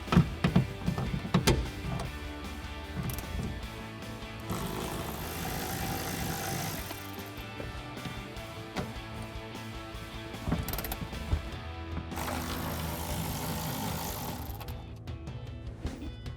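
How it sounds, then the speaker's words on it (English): A ratchet drives a T50 Torx socket to remove side window bolts on a 2021-2024 Bronco, giving quick mechanical clicks and ratcheting over a busy mechanical background, with sharper clacks near the start. "So I'll take a T50 Torx socket to pop these out."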